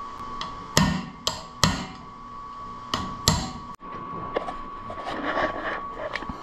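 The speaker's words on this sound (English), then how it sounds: "I might try a hammer and a punch first so I can get these up out of there." Hammer striking a punch to drive stuck pieces loose during driveshaft work on a 1983 GMC K2500 pickup: several sharp metallic knocks spaced irregularly, fairly close, over a steady background hum, with a louder clattering stretch toward the end.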